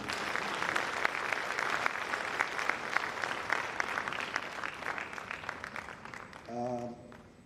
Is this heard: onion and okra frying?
no